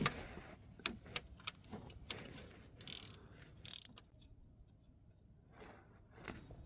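13mm ratchet clicking as it loosens a nut on a starter bracket beneath a 2006–2010 Volkswagen Jetta, Golf or Rabbit, quick quiet bursts of ratcheting with metallic taps and clinks, close up and without talk.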